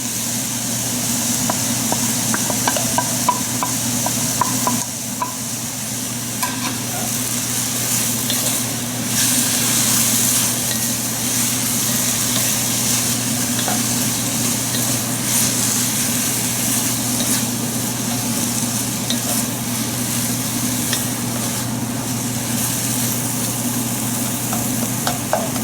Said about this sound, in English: So now we'll add the garlic, the ginger and the chilies.